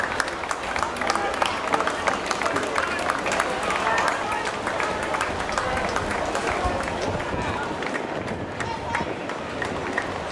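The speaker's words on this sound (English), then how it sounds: "Keep the round of applause going for all our finalists" Crowd applause and cheering for finalists at the Stawell Gift 1600m women and masters race, sustained dense clapping across an outdoor athletics venue under a loud announcer's voice.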